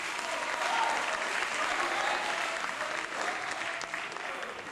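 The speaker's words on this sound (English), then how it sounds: "Ladies and gentlemen, a round of applause for them once again." An audience applauds at a televised Ghanaian youth contest show, steady dense clapping that fills the room and fades slightly toward the end.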